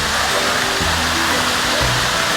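A large waterfall at Cloudland Canyon roaring loudly and continuously nearby, a dense wash of rushing water with faint voices beneath.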